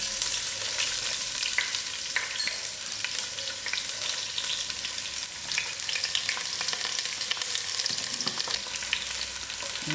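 Onions fry in about a quarter cup of hot oil over moderate heat, a constant crackling sizzle with brief stirring scrapes near the end, close and steady, with no one speaking.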